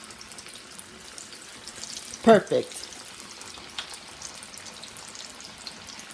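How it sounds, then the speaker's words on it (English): A steady, hissing sizzle of catfish frying in hot oil runs throughout, with a brief spoken word partway through. "Hear that sizzle?"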